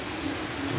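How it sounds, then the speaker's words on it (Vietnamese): Rain falling in cold, windy weather, a brief steady broadband hiss with a low rumble underneath and no voices. "Tưởng đâu hết ai ngờ vẫn mưa."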